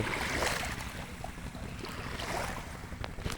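Waves of the Meghna River at Chandpur wash and churn continuously nearby, with gusty wind buffeting the microphone throughout.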